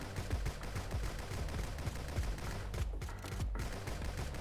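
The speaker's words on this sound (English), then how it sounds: "here comes the AK-47" Rapid automatic AK-47 assault rifle fire in the GunCraft Survivor video game, a dense continuous rattle of shots layered over game effects, loud and steady throughout with no talking.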